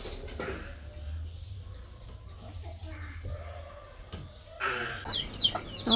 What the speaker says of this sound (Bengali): মুরগিগুলো বের হওয়ার জন্য কেমন করতেছে